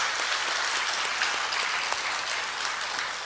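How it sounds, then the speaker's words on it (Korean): Church congregation applauding together, a dense steady clapping that fills the room at even loudness without voices. "축복의 박수 한번 합시다"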